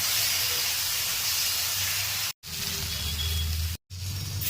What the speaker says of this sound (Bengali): এবার মশলার সাথে আলুটা কষিয়ে নেব।